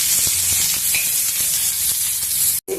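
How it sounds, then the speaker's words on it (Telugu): Onion pieces and curry leaves sizzle in hot oil in a pan, a loud, steady, close hiss with faint crackles throughout, briefly cut off just before the end. "కొన్ని ఉల్లిపాయ ముక్కలు, కరివేపాకు వేసుకొని కొంచెం వేయించండి."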